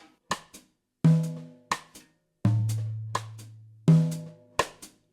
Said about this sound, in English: Or on that last one, we could put it on the floor tom.